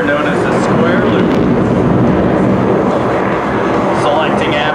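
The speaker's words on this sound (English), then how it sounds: "Selecting afterburners and jet approaches show center" Loud, continuous roar of an F/A-18F Super Hornet jet flying with afterburners at an air show, dense and sustained, with an announcer talking over it.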